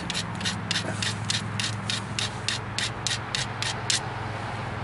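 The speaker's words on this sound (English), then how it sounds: "So I am going to grind the back side." A flint-knapped mookaite point having its back side ground in a rhythmic series of about a dozen short, gritty scraping strokes, close and steady, then stopping.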